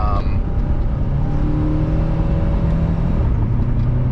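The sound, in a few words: Saab 9-2X Aero engine revving while rev-matching downshift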